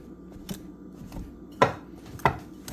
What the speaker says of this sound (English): See, I'm doing it in like a cutting motion. Incorporate all this cold butter into the flour